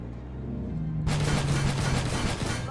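Heavy gunfire erupts in a tank battle in the video game Armored Warfare, a sudden loud burst of rapid shots and booms that keeps rolling on, close and dense.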